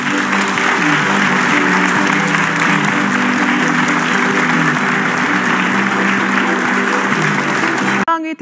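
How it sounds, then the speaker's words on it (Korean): A studio audience applauds steadily to welcome South Korean President Yoon Suk Yeol at a public town-hall forum, the dense clapping loud and continuous for about eight seconds before cutting off abruptly. "여러분들 박수로 맞아주시죠."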